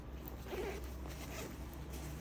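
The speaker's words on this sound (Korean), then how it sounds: "여기 지퍼를 쭉 열어주잖아요" A zipper on a bag is pulled open in one smooth, quiet run of soft ratcheting that lasts a couple of seconds, set against a low room hum, with no talking.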